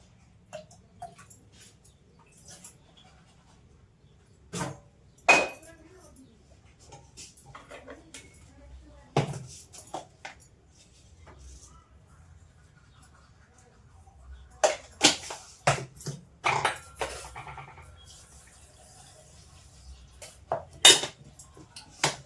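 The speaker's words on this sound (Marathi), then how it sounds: "चहा उकळेपर्यंत भांडे मांडून घेते" Scattered clinks and clatters of steel pots, dishes and cutlery being set out in a home kitchen while tea boils, sharp and near, coming in irregular bursts with quiet gaps between them.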